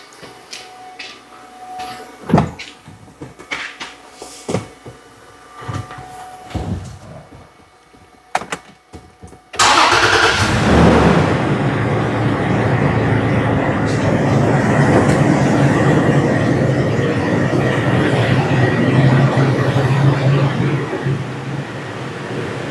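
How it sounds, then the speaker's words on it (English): A 2017 Toyota Tacoma with a misfire fault is started: scattered clicks and knocks give way to the engine catching, then a loud, steady running roar that continues, heard near. "I'm going to start it up."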